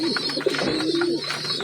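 Rampuri pigeons cooing nearby, a soft, low, rolling coo that repeats through a short stretch with no speech.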